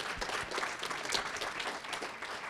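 Faint, steady applause from an audience at a pitch competition, a dense wash of clapping heard from a distance.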